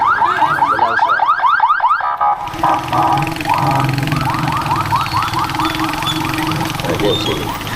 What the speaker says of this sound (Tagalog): Emergency. Ayan, padaanin. Ambulansya.